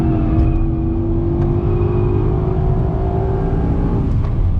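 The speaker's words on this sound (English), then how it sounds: "Well, Matthew Johnson, that was a great little ride in this massive hunk of metal that is the Mercedes AMG GTS." Mercedes-AMG GT63S from 2023 accelerating hard on a race track, its engine roaring loud and steady throughout with a rising tone, heard from inside the car.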